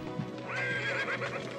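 A horse gives a clear, fairly close whinny that rises and wavers for about a second, with faint hoof shuffling beneath it and no speech.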